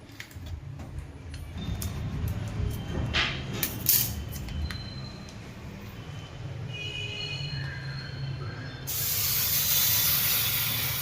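One and a half litres of milk poured into golden caramelized sugar for Gujarati doodh pak, hitting the hot pan with a sudden, loud, steady hiss that swells near the end after quieter clinks and stirring.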